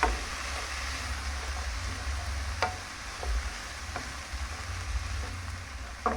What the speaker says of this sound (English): So I'm just tossing the cabbage with the veggies so that it can be fully mixed in with all of that flavor in the pot.